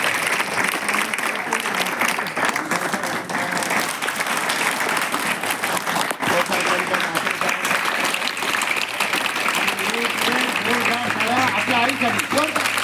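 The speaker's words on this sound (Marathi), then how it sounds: "टाळ्या वाजवा." Many hands clap at once in a school hall, a long, dense wash of applause that holds steady at full strength while voices talk and call out over it, growing more prominent toward the end.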